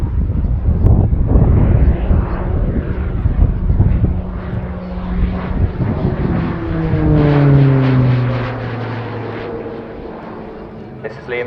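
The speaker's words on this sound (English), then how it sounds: "This is Liam's first season as a display pilot and the Tucano's very final year" An RAF Shorts Tucano turboprop trainer flies a display routine at an airshow, its propeller drone loud and sustained, rising and falling in pitch as it passes, then fading toward the end.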